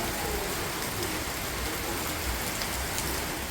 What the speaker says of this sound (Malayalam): പക്ഷെ മഴ ചതിച്ച്.